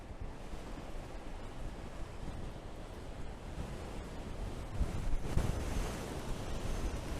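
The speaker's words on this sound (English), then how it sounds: "Oh, the wind's quite strong." Strong wind buffeting the microphone while riding a Super Soco TSX electric motorcycle, a steady loud rushing roar that swells slightly toward the end, with no talking.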